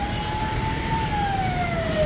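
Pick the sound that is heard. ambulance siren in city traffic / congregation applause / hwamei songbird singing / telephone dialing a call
ambulance siren in city traffic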